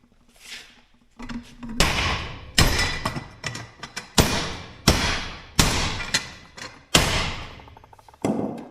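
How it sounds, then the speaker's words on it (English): Hammer blows on the bent steel landing gear of a camper, about eight loud, sharp metallic strikes at irregular intervals, each ringing briefly, with a faint tone between the first hits. "Doesn't take much of a hammer to straighten it out."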